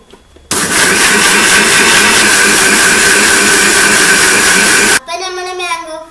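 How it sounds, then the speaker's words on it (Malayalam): A mixer grinder blends chopped mango with sugar and water into a mango drink. It gives a loud, steady whir that starts abruptly, runs about four and a half seconds, then cuts off before a voice speaks. "ഇനി ഇത് മിക്സിയിൽ വെച്ച് അടിച്ചെടുക്കാം."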